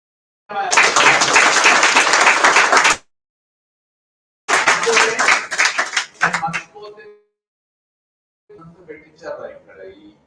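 Bursts of close applause and clapping, a long loud stretch, a shorter ragged one, then faint scattered claps; a voice also appears to speak.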